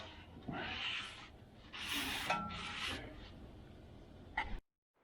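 Rag rubbing and wiping grease off a rear brake part on a 2015 GMC Sierra Z71 pickup, a few close scrubbing strokes in bursts, then stopping abruptly.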